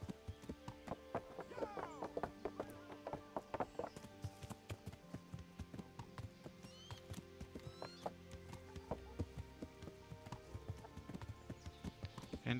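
Horse hooves clip-clop in a quick, steady rhythm amid faint ambience in the video game Kingdom Come: Deliverance, with occasional whinnies and scattered soft clanks throughout.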